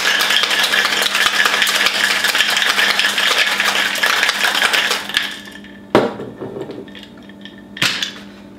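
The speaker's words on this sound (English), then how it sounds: "I opted to shake this drink instead of stir it like the story says" A screwdriver cocktail is shaken in a cocktail shaker, giving a loud, continuous rattle of ice for about five seconds, then a couple of sharp single knocks and clinks after it stops.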